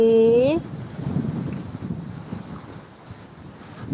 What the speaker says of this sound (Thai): ลมมาก่อนเลยนะคะ ฝนก็คงจะตามมานะคะ